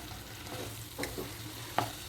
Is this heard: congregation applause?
no